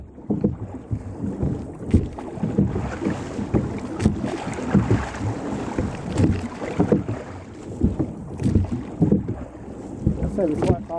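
Racing rowing crew pulling hard at a high stroke rate out on tidal water, with rhythmic splashes and thumps of oars under steady wind buffeting the microphone; some voices are faintly present.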